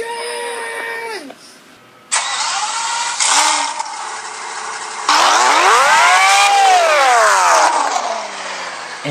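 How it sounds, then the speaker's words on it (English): Engines rev and whine in bursts in a NASCAR Sprint Cup video game race at Dover, pitches sweeping up and down as stock car motors start and roar, with clicking mechanical sounds in between. "Engines are fired."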